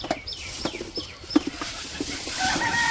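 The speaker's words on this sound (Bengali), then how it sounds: "তো ওই যে কোয়েল পাখি নিয়ে আইসা পড়ছে" Live quail in a village setting, caught before being slaughtered for cooking, give short clucking, chirping calls in scattered bursts across the clip, fairly close and moderately loud, with no talking.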